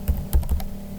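A few quick clicks of typing on a computer keyboard, close and clear, in a short burst with no talk.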